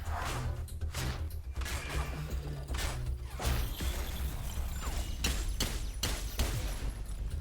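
Video game gunfire crackles in quick bursts of shots with impacts and crashes, loud and close throughout a busy fight.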